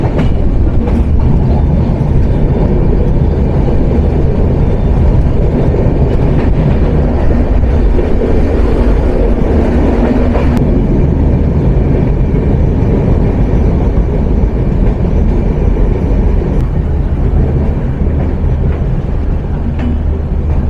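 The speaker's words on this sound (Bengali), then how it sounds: "আন্তনগর মধুমতি এক্সপ্রেস যাত্রা শুরু করলো" The Madhumati Express intercity train runs on an old British-era railway line in Bangladesh, a loud continuous rumble with steady clickety-clack of wheels over rail joints heard from on board, with occasional metallic squeals.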